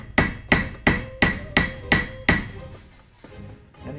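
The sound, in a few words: 3-pound hammer striking metal on anvil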